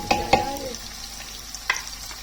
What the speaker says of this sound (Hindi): हमने कैप्सिकम ऐड किया और इसको भी उसी तरह से फ्राई कर लिया।